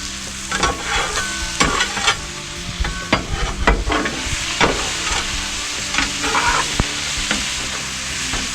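Brussels sprouts with butter and hot sauce sizzle on a hot griddle, a steady loud frying hiss broken by scraping, stirring clicks and spatula taps, with no talking.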